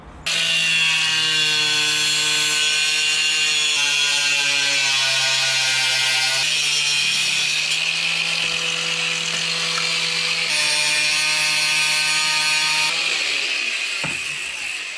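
A power tool cuts through the grille section of a Suzuki Samurai during a winch and bumper install, a loud, steady, high-pitched whine with strong harmonics that holds for about fifteen seconds, its pitch dropping and shifting as the blade loads and eases.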